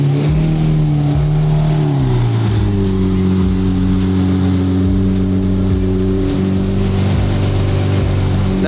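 Lamborghini 6.5 liter V12 revving loudly and close, a deep steady engine drone that climbs in pitch around two seconds and then holds high, with faint voices underneath.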